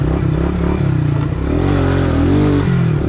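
A light, good-running used quad four-wheeler with about 1,000 miles, revved hard during a wheelie; the engine sounds loud and close, rising and falling in pitch with throttle changes.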